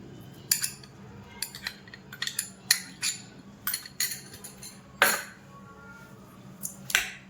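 Banana, pomegranate seeds and mango being mixed into fruit custard in a bowl, with a quiet run of separate spoon clinks and taps against the dish at an uneven rhythm, close by and with no talking.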